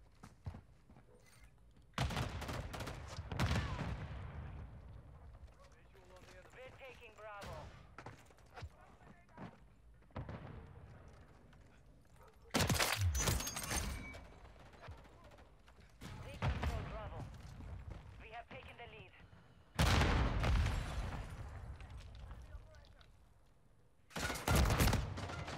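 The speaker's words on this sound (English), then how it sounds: "Sniper sound!" Katt AMR anti-materiel sniper rifle firing in an online shooter game: several loud, isolated heavy shots spaced seconds apart, each with a long ringing tail, while someone talks between them.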